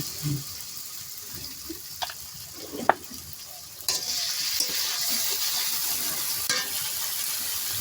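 Ginger garlic paste sizzles quietly in oil with browned onions, a soft continuous fry broken by occasional spoon clicks against the pan, the hiss growing a little fuller in the second half.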